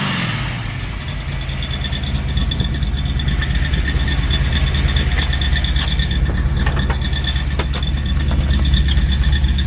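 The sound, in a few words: hot rod car engine idling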